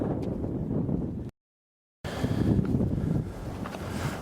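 Strong wind buffets the microphone on a beach walk, a steady rumbling roar that cuts out briefly and then resumes just as loud.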